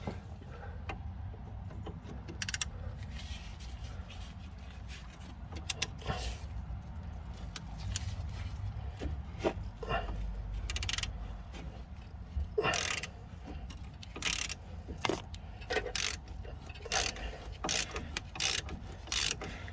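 A ratchet loosens a bolt on a BMW 5 Series front strut, giving bursts of quick clicking ratchet strokes separated by pauses and faint handling clunks, close and fairly quiet, with no talking.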